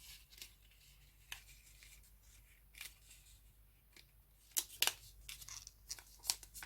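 Scissors cut a paper rectangle in half, giving a few crisp, close snips and rustles of paper over a quiet room, with no talking.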